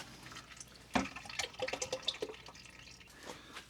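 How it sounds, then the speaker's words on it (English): Oil from a Hitachi 50 excavator drips and trickles through a small drip pan and hose into a bucket during a first oil change, with irregular close splashes and drips that fade toward the end. "It's got a little drip pan with a hose, so it catches all that oil."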